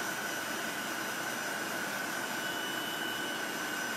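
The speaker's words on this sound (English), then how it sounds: "I am using a heat gun," A heat gun runs on its cool setting, giving a steady, even rushing blow of air that holds at a constant moderate level throughout without pause or talk.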